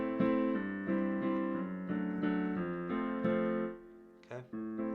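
Solo piano playing a verse passage of a song, with sustained chords and a bass line moving beneath them at an easy tempo. The playing is close and moderately soft, with a brief scrape-like sound near the end and no talking.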